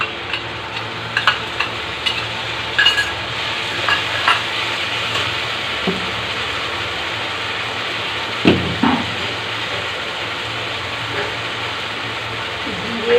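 Onions frying in a pan as a chili, ginger and garlic paste goes in, cooked for lentil dal and chicken curry: a steady close sizzle with scraping stirring clatter and small knocks throughout.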